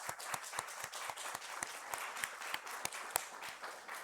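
Sparse, distinct hand claps from a small congregation during a Sunday morning church service welcoming guests, a fairly quiet scattering of separate claps rather than a dense roar, steady for about four seconds.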